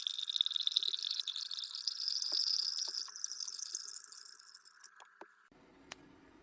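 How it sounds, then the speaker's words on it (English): Lemonade streams from the spout of a glass drink dispenser into a glass, a steady hissing pour that thins out, with a few faint drips and a small clink near the end. "Let's pour a glass and make sure there are no leaks."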